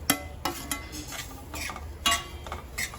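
A spoon clinks and scrapes in a pan while semolina and banana are roasted together, with a few sharp taps standing out over a low steady hum, close and fairly quiet.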